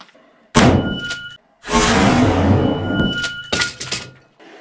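A Cold Steel pole axe of 1055 carbon steel strikes a target in a destruction test: heavy thunks land close and loud, one isolated hit and then a longer crunching impact, followed by a couple of quick knocks.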